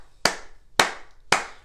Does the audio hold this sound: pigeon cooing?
no